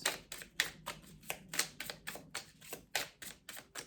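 Tarot cards are shuffled in quick, crisp bursts, a steady run of close, snappy riffles and taps in an otherwise quiet room.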